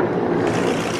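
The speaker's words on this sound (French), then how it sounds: "Écoutez le son des moteurs." The engines of a Junkers Ju 52 aircraft drone in a steady, loud, rumbling hum with no break, heard at an air show at La Ferté-Alais.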